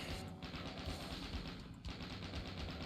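Chaingunner enemies in DOOM II spray sustained rapid machine-gun fire, a dense continuous rattle of overlapping shots in a game scene, with no voices over it.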